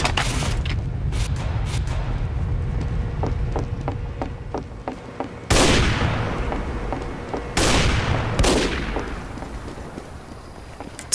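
Sniper rifle gunfire in a snowy-mountain multiplayer shooter game, with a rapid string of sharp shots early on and two heavy, booming blasts that ring out and decay, loud and close with no talk.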